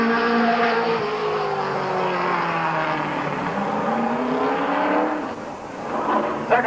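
A race car lapping Midvale Speedway, a short oval track, in 1988, with an engine drone that sweeps downward in pitch as it passes and then fades, loud and sustained throughout.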